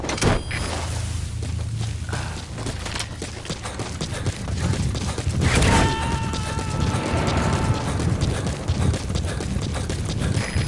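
Horse hooves clip-clop steadily through a video game's wilderness, mixed with background game sounds and a brief boom, carrying at moderate loudness for the whole stretch.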